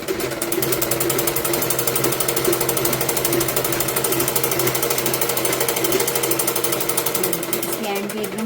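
A sewing machine stitches the sleeve onto a simple salwar suit, running as a rapid, evenly pulsing mechanical chatter that stays loud and continuous the whole time.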